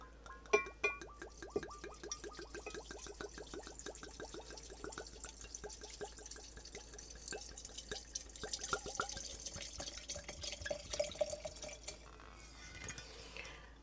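Alcohol solvent is poured over herbs in a glass container, giving a faint, uneven trickle with scattered drips and gurgles over about fourteen seconds.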